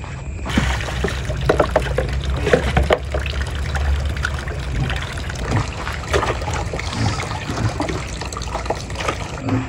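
Tap water runs and splashes continuously while tilapia fish are rinsed, making a close, steady gushing trickle with small irregular splashes.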